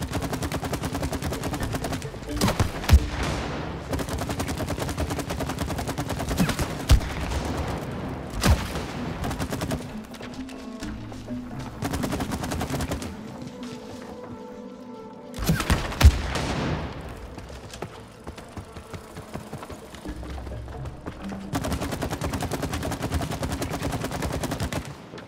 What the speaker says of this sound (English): I think it's a shooting range